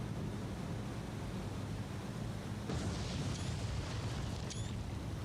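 A torpedo strikes a ship in the naval video game War on the Sea, a deep rumbling boom washing over steady low roar, with faint whistling tones above.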